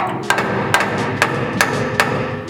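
Five evenly spaced sharp hammer taps drive a steering shaft coupler into place on a Mazda mini truck fitted with a 240SX angle kit, close and loud over a low background.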